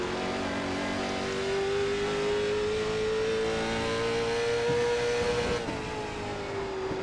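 Late Model Stock race car in iRacing at Thompson, a steady loud engine drone with a rising and falling pitch as another car draws alongside and goes by, alone with no talk.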